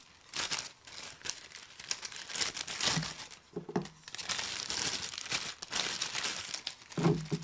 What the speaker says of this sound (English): And then we're just putting it in the baggie, and the baggie keeps it nice and protected